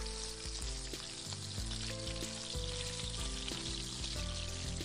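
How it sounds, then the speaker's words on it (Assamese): Pieces of arum (taro) sizzle in a hot pan with a continuous, even frying hiss, while music plays steadily over the cooking noise. "কচুখিনি ভালকৈ লৰাই পেলাই ভাজি ল'লোঁ"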